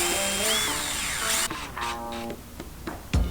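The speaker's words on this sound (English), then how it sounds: "So I'm going to throw it in the vise and just be careful with my drill to make sure I have a nice straight hole." A power drill bores a hole in a steel file clamped in a vise, a loud high whine with rising pitch that cuts off sharply, then lower grinding and spinning down with scattered clanks.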